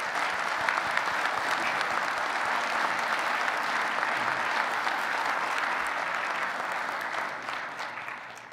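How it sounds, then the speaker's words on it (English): Sustained applause from a conference audience at an annual general meeting after a keynote speaker, dense and steady for several seconds before tapering slightly at the end. "So big round of applause for Dr."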